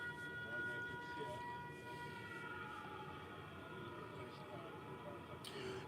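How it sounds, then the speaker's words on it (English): A tornado warning siren wails at a distance with a drawn-out sustained tone, under low background rumble and faint talk. "That's the exact siren you'll hear when tornadoes are coming here."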